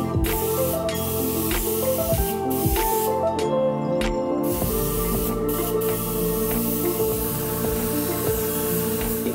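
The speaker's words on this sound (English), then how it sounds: "To get started airbrushing the color." An airbrush sprays colour onto a Chanel leather bag during professional restoration, giving a steady close hiss over a constant tonal hum throughout.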